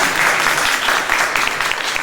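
An audience claps loudly and steadily after a stage play performance, dense continuous applause filling the hall without a break.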